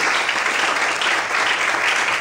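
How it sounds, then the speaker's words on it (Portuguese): A church congregation applauds loudly, a dense, continuous roar of clapping throughout, close and even in level. "Eles podem aplaudir bem forte a Deus."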